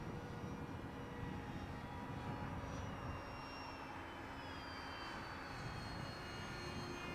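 An E-flite Habu SS 50mm electric ducted fan RC jet flying slowly, a steady whooshing fan whine with a faint shifting tone, continuous and moderately distant, no speech.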